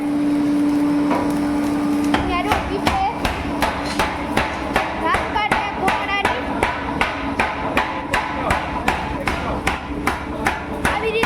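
A hammer beats a blade heated in a forge at a village blacksmith shop, striking in a steady, evenly spaced series of loud, close metallic blows over a low hum, with voices briefly heard.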